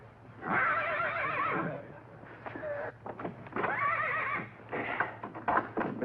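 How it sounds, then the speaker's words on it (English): A horse in an old television sitcom scene neighs in two long, loud whinnies, with shorter snorts and faint hoof clops in between. "Mr. Albright, the horse has taken such a liking for you"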